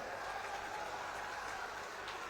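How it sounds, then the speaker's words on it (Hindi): Crowd at an outdoor political rally in Bihar clapping for an MP's birthday, a steady dense wash of applause from many hands, moderately loud and unbroken throughout. "सभी लोग ताली बजाइए"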